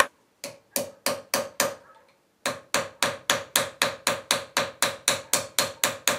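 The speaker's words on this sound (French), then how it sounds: "je vais riveter la butée de la lame." Sharp metallic taps of a small 100-gram hammer riveting a knife blade's stop, a few spaced strikes, a short pause, then a steady rapid series of ringing blows, close and loud.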